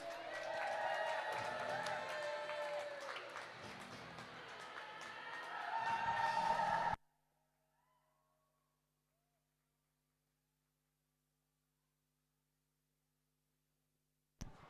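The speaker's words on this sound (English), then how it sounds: "big round of applause for Rockcity" Crowd at a live roller derby bout applauds and cheers the Rockcity team, a dense, loud wash of clapping and voices lasting several seconds before cutting off abruptly into silence.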